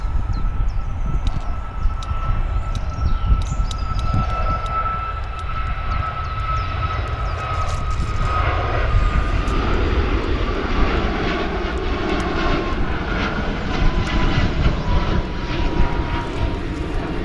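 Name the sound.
aircraft engines on approach to Manchester runway 23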